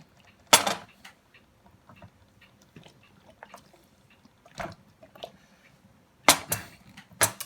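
Lidded jars of homemade apple cider vinegar mix are shaken a few times, giving short clattering bursts of glass and sloshing liquid separated by quiet gaps, close and moderately loud.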